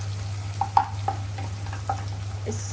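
Dried pomfret fish (rupchanda shutki) frying in a pan, a soft steady sizzle with a low hum beneath and a few light pops and stirring ticks, close and without speech.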